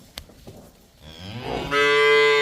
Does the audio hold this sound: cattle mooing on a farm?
yes